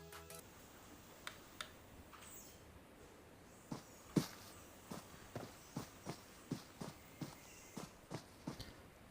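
Footsteps in the video game PUBG Mobile tap in a steady walking rhythm, sparse at first then regular, crisp and fairly quiet over a faint background hiss.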